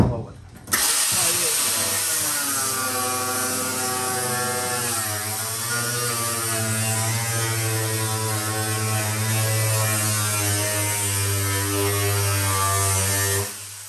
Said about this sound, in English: You get the grinder in the groove, and then you follow it.